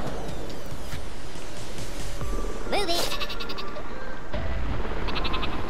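Sheep bleating from the sheep weapon in the Worms W.M.D video game, heard over steady game noise and background music, with brief bleat-like tones in the middle of the stretch.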